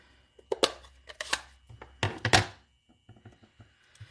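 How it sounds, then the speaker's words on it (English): A rubber craft stamp thumps onto paper on a tabletop in a few soft, close knocks and taps, with lighter handling clicks afterward. "we'll stamp that in Gorgeous Grape"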